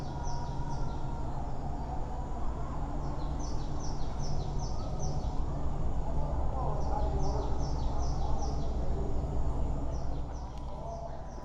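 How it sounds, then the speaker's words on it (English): Repeated bursts of high chirping birdsong piped in through speakers in an indoor park on a cruise ship, over a steady low background hum, evenly spaced and fairly faint throughout. "you'll be able to hear some birds chirping"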